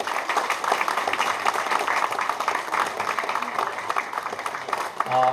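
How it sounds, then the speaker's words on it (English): Crowd applause welcoming a guest at a political gathering, sustained clapping from many people lasting several seconds, with some voices mixed in beneath it. "one more time a round of applause to welcome him."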